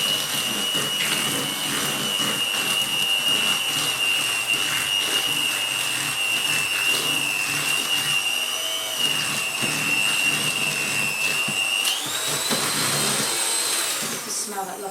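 Cake batter of eggs and flour being whisked with an electric mixer for a lemon drizzle cake, a steady loud whirring motor drone lasting throughout, with a pitch shift near the end.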